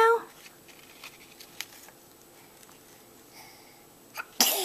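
A child sneezes once, loud and close, with a sharp burst right at the end, after quiet indoor background with faint small noises.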